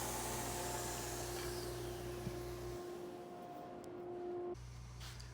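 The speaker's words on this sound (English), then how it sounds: "At the belt sander, the center blocks get sanded into a slight wedge." A woodshop belt sander shaping wood blocks into a slight wedge, running with a loud steady whine and hum that briefly drops in tone as the block presses against the belt.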